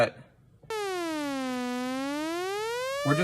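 A synthesized dub siren tone from a Roland MC-101, pitched up, swoops down and slowly back up in one long, smooth electronic wail, loud and alone after a brief quiet start.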